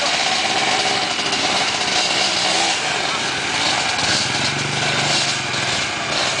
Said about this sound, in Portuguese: Um monte de moto, né, cara?